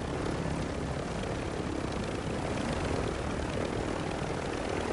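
Helicopter in a video game droning steadily with dense, broadband rotor and engine noise, loud and close for the whole stretch with no talking.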